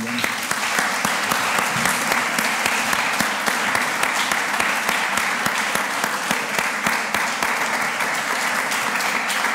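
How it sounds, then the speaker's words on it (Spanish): Sustained audience applause at a televised interview with John Carlin, a dense, steady wash of many hands clapping throughout, with a voice briefly audible underneath. "Bueno, le agradecemos, le damos un aplauso ahora."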